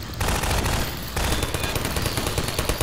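Automated turret in Half-Life 2: Episode 2 firing a loud, continuous stream of rapid gunfire against antlions, sustained throughout with no break.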